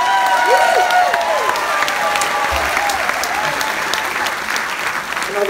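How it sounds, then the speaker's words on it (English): A festival cruise audience gives a loud, thick round of applause for the band and their musical director, steady clapping with some cheering and a voice briefly audible over it. "So give them a massive round of applause."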